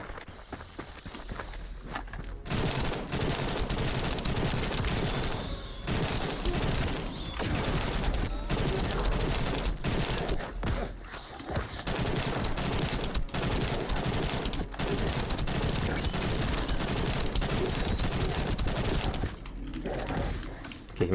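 The Tamer, a heavy gun in The First Descendant, fires in long rapid bursts through a mission, loud dense rattling with brief gaps, mixed with footsteps and running.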